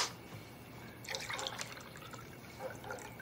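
Drink poured from a jar with faint liquid splashing and trickling in short bursts, quiet against a soft indoor background.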